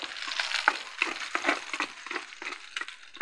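Garlic sautéing in a pan for chicken-feet adobo, a steady close sizzle broken by repeated sharp scraping stirs of a spatula, with no voices.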